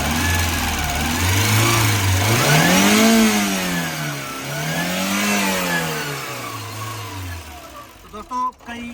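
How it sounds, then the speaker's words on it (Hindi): Maruti Eeco van engine with a starting problem, revved up and down in two long swells after a fresh part fitment, loud and close, ending with a few sharp knocks; no talk. "अब गाड़ी को करेंगे एक बार स्टार्ट।"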